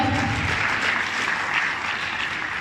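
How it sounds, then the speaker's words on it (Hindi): An audience at a business success seminar gives a round of clapping for teachers, a steady crowd applause heard on its own for a couple of seconds. "हमारे टीचर्स के लिए जोरदार तालियां हो जाए एक बार"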